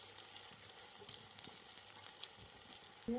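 Bitter gourd pieces fry in a pan, giving a continuous soft sizzle with faint stirring scrapes and small pops, close but fairly quiet, ending with a brief clatter.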